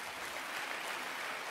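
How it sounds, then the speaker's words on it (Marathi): Audience applause at a political speech for a Rakhi programme in Maharashtra, a steady broadband clapping that holds evenly at moderate level for the whole short stretch. "जरा टाळ्या वाजवा"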